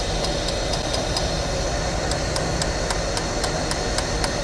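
A petrol car engine idles with a steady low rumble, overlaid by a regular ticking tap on the fuel injectors repeating about every quarter second, close and constant.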